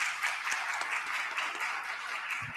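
Brief, steady applause from the audience at a Crete Monee School District 201u board meeting, moderately faint and continuous across the short stretch with no talk over it.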